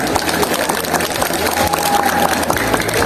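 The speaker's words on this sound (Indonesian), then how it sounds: "kasih dong tepuk tangan buat teman-teman kalian" Students at SMP N 3 Petang junior high school clap for their classmates, a dense, steady round of applause that carries through without a break, with a faint hum underneath.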